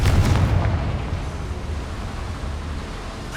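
A fiery Confringo spell blast in Hogwarts Legacy, a loud booming burst at the start that rolls into a long, dense rumbling decay with no voices.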